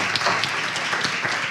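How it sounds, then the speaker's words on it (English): Steady, dense applause from a congregation at a spiritual living center, a continuous wash of many hands clapping with no talk over it. "give yourselves a round of applause for that."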